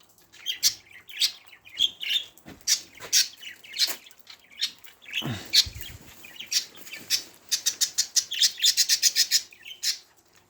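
Rapid, bright chirps and twittering from budgerigars outdoors in snowy winter weather in Istanbul, busy and fairly close, with a few quick trilled bursts toward the end.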